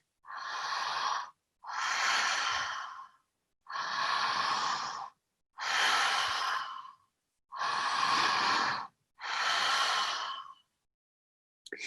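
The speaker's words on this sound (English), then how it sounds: "It's a circular breathing like this." Six long, steady breaths flow one into the next with only tiny gaps, each a loud, airy whoosh of about one and a half seconds, close and rhythmic, with no voice.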